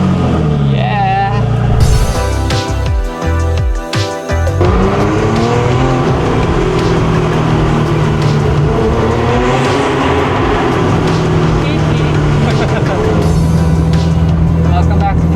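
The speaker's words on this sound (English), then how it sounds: "Let's hope my car starts." A car with a weak battery starts and its engine revs, a loud, close, continuous roar with rising and falling pitch after a brief broken cranking stretch, while people talk over it.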